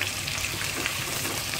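Onions fry in hot ghee with a loud, dense, continuous sizzle close up, with no talking.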